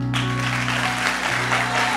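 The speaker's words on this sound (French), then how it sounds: "j'aimerais que vous fassiez un très grand applaudissement, un tonnerre d'applaudissements" An audience at a worship and praise evening claps for the sound technicians, dense applause rising abruptly and continuing over a sustained electronic tone and low hum from the sound system.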